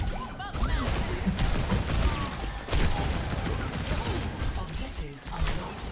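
Bastion in turret form firing nonstop in Overwatch 2, a dense, loud stream of rapid gunfire with mechanical clatter and crashes throughout a chaotic close-range fight.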